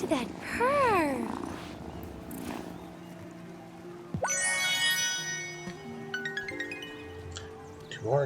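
A cat in the farming game Wylde Flowers purrs softly in a steady low rumble, heard alongside chiming game music and bright jingles.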